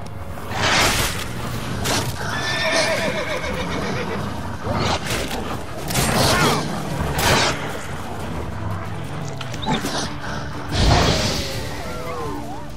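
Roach, the horse in The Witcher 3 video game, neighs and whinnies repeatedly in loud bursts over galloping hooves, with game sounds and a voice speaking in between.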